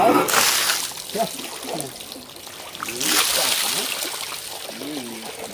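During a shampoo prank on an old man, water is poured and splashes in bursts, with people talking over it.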